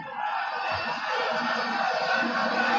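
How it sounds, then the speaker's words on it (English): A boxing arena crowd roars in one big sustained cheer after a furious round of Julio Cesar Chavez versus Edwin Rosario, a dense, loud wall of voices holding steady throughout. "Just hearing a big cheer was not only for a furious round, but because the over/under was 8 rounds."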